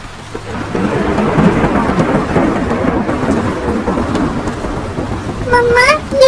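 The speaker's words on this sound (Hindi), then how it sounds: "ये बारिश तो रुक ही नहीं रही।" Heavy rain pours in a cartoon scene while a deep rumble of thunder rolls underneath, a dense steady hiss throughout, with a brief voice cutting in at the very end.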